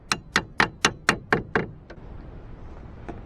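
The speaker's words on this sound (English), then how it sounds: "So you can hammer on it lightly" Light hammer taps on the control arm spindle of a Chrysler PT Cruiser during a control arm replacement, seven sharp metallic knocks in a steady quick rhythm, close and clear, then fading into quiet shop background with one faint later tap.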